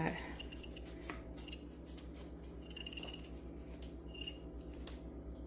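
Potatoes being peeled with a kitchen knife, producing soft repeated scraping and cutting strokes at close range, faint and steady under a low background hum.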